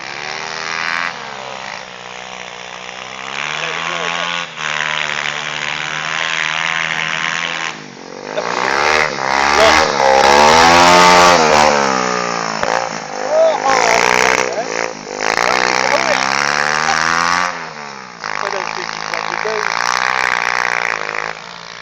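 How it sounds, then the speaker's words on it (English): A pit bike engine revs hard during racing, a loud buzzing whine rising and falling through repeated throttle blips and sustained high revs, close by, with brief dips between pulls. "Your engine's on the peak of its performance."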